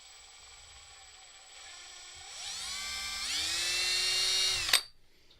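An electric drill spins up with a 3/16 bit, whining higher in pitch as it bites and loads, then cuts off abruptly with a clatter after a few seconds.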